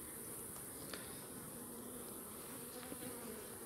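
Steady, dense buzzing of many honeybees close by at an opened hive during inspection, continuous throughout with no voices.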